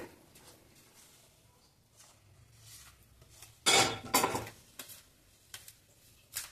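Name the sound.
mixing methi laddu mixture with jaggery syrup using spoon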